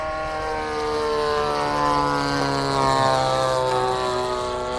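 A Hangar 9 20cc P-47 radio-controlled model plane flies past with a steady, droning gas-engine buzz that swells slightly as it passes, heard alone and fairly close.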